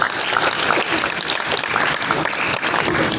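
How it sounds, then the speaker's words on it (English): An auditorium crowd applauds warmly as school representatives leave the stage at a junior-senior program, a dense, even wash of clapping close up and sustained across the whole moment. "Let us give them another warm round of applause as they exit the stage."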